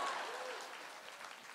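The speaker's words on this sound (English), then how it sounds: "You can clap for that." Convention crowd at a Supernatural fan panel in San Francisco applauding, a broad wash of many hands clapping that fades gradually as it goes on, moderately distant.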